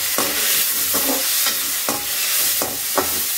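Green peas being stirred into onions sautéing in hot oil for a baby jackfruit kuruma, a bright steady sizzle punctuated by a handful of spoon scrapes and knocks against the pan, heard close with no talking.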